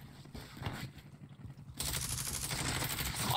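Gunfire in a competitive online shooter match during an official championship, with scattered shots at first and then a loud, sustained rapid burst filling the second half.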